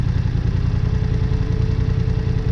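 A BMW F 900 XR motorcycle idles with its cooling fan running, giving a loud, steady low engine rumble with a constant whirring hum layered over it, close up and uninterrupted.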